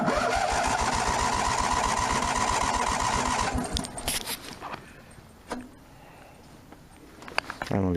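A 1997 Snapper mower engine cranks and catches with a rapid pulsing chug for a few seconds, then drops away into quieter sputters and clicks.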